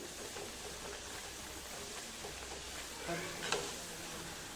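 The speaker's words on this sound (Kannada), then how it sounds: "ಕಾದಿರೋ ಎಣ್ಣೆಗೆ ರೆಡಿ ಮಾಡಿರುವಂಥ ವಡೆನ ಬಿಡಬೇಕು ಎಣ್ಣೆ ಚೆನ್ನಾಗಿ ಕಾದ್ರೆ ಚೆನ್ನಾಗಿ ಬೇಯುತ್ತೆ" Vada frying in hot oil gives a faint, steady sizzle and bubbling that runs throughout, with a slightly louder crackle toward the end.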